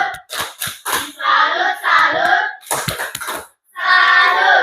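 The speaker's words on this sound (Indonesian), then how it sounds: "selanjutnya berikan tepuk tangan dulu kelompok generasi 5" A group of students in a classroom gives a rhythmic clapping salute, sharp hand claps alternating with bursts of chanted voices in unison, loud and close.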